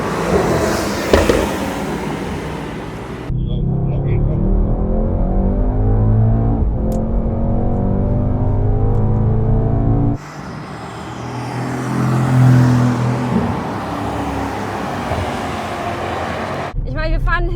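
A Mercedes-AMG GT63S drives and accelerates behind a GTR, its engine a steady loud roar with gear changes and road noise, while people talk inside the car.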